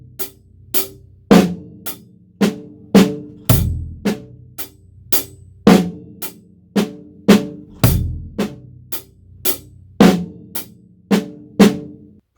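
Drum kit playing a paradiddle groove at a steady, moderate tempo, with regular cymbal and snare hits over kick drum, close and clear, with no talking.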